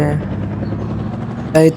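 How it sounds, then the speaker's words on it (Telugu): A helicopter flown in a Hulk video game gives a steady low rotor and engine drone, close and continuous, ending with a brief louder burst. "ఇప్పుడైతే హల్క్ అయితే హెలికాప్టర్ అయితే నడుపుతున్నాడు, చూసుకోవచ్చు"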